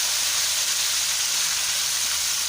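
Chicken pieces for a shadi-style korma hitting very hot oil, a steady loud hiss and sizzle that holds without pause for a few seconds.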